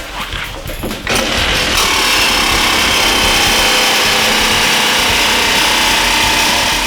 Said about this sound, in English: now we're going to use the Sawzall